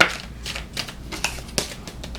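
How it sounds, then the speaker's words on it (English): Deck of playing cards being shuffled: a series of short riffling bursts and soft taps in an uneven rhythm, close and fairly quiet, without speech. "I'm not a great shuffler, but I'm going to actually shuffle the cards"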